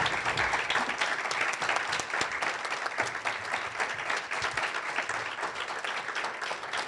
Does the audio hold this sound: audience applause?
yes